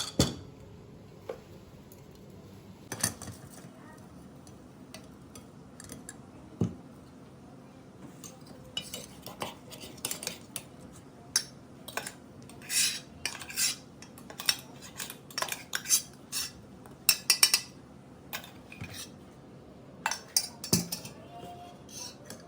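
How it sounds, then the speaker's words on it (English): Ground cashew for kaju katli being sieved, with repeated light metallic taps and scrapes of a utensil against a mesh strainer, sparse at first, then busier and more rhythmic, close and fairly quiet. "So now we will sieve it."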